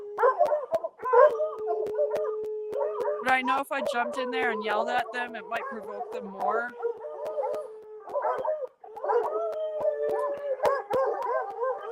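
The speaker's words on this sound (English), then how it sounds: "This one yipping here with no collar on." Dogs howl and yip in a drawn-out, wavering chorus around a horse in 40-below cold, with a person talking over them throughout.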